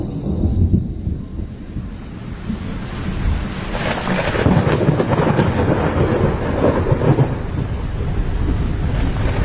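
A thunderstorm with heavy rain and rolling thunder, a loud continuous wash of rainfall that swells into a deep rumble midway and stays dense and close to the end.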